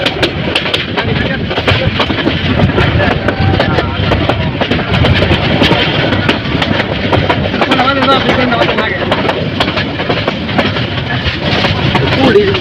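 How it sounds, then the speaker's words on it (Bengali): Kalni Express train running past the outer signal of Bhairab junction, a steady loud rumble of wheels and carriages with rattling clatter throughout, heard from on board. "এই যে ট্রেনটি বাদ নিয়ে ভৈরব জংশনের আউটার সিগন্যাল ক্রস করে যাচ্ছে"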